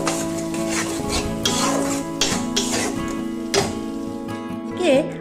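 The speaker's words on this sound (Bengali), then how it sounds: "দিয়ে এখন ভালো করে এটাকে আমি নেড়ে নেব" Mashed bottle gourd leaves with salt being stirred and scraped in a pan, with repeated soft scraping strokes and light clinks of the utensil against the metal, close and steady throughout.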